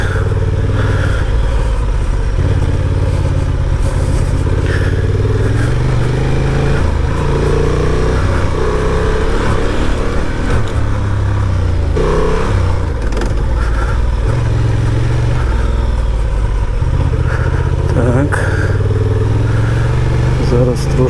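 A 2023 Honda Transalp 750 motorcycle on the move gives a loud continuous engine drone with wind rumble and shifting revs, and a rider talks over it throughout.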